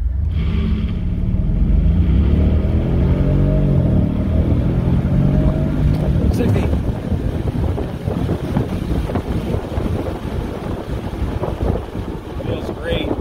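A Mercedes SL550 accelerates uphill from a standstill toward 60 mph, its engine note climbing steadily before blending into loud wind rush over the car.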